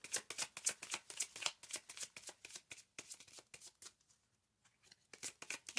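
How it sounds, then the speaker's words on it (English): Tarot cards being shuffled by hand to draw an advice card, a rapid run of crisp riffling flutters, close and soft, pausing briefly before resuming. "Let me get you another advice card."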